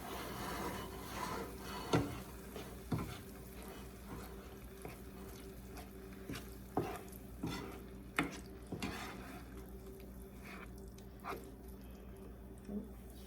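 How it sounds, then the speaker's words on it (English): Vegan gnocchi and crumbles being stirred in a frying pan, with soft scraping strokes at irregular intervals over a low, steady sizzle, close and fairly quiet. "I'm gonna give this a little stir."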